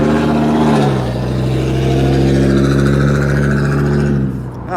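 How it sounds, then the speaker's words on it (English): A loud truck rumbles past on a city street, its deep engine drone steady and close for several seconds before fading out at the end. "Oh, that truck was loud."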